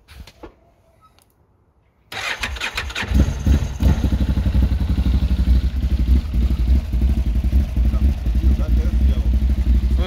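An ODES 1000 off-road vehicle sits quiet for about two seconds, then its engine catches suddenly and settles into a loud, close, rhythmic idle with clattering pulses.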